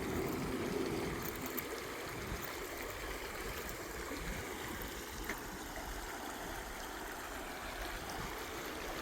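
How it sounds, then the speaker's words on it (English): A rippling stream with a mini waterfall in Meramec State Park gives a steady, soft rushing wash of water that keeps going with no talk. "Another beautiful little stream. Rippled water, mini waterfall there."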